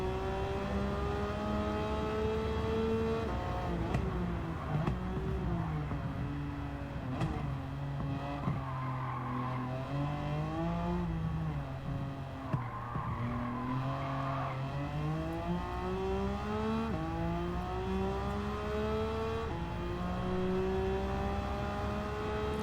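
Nissan GT-R race car engine in the Gran Turismo 7 video game, a continuous loud roar that rises and falls through gear changes and revving, with brief tire squeals between pitch sweeps.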